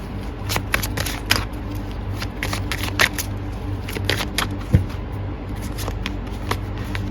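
Tarot cards being shuffled during a reading, a steady run of crisp riffling and slapping bursts against a quiet background, close and fairly loud, with no talk.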